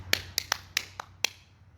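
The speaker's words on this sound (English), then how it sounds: "No, it's the clapping, it's our intro." A few people clap about six sharp, separate hand claps at an uneven rhythm as a podcast intro. The claps are close, quiet, and set against a faint background hum.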